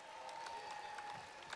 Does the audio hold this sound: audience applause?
yes